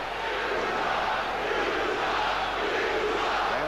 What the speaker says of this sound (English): the crowd reacted to the last, what they felt was a non-call